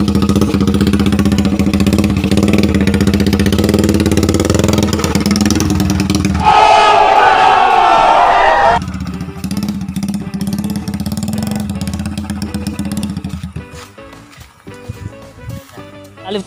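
A motorcycle fitted with a bamboo exhaust, which caught fire, runs loud and rough throughout beside a rice field, with a harsh, noisy burst of revving partway through before settling back to a throaty idle.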